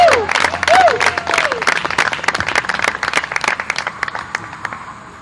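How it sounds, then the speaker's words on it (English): A crowd at a live event applauds for Mia and Mario with loud, dense clapping that slowly thins and fades, while a voice rises briefly over it at the start. "Can we give Mia and Mario another round of applause?"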